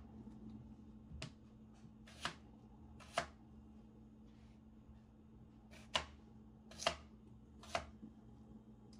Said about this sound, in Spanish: Ya voy a cortar las papas.